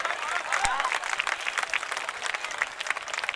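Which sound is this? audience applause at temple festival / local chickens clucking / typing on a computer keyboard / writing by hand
audience applause at temple festival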